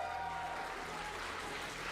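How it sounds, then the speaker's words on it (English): Studio audience applause at a convention game-show event, a steady dense wash of clapping that holds evenly for about two seconds with no voices on top. "round of applause for that."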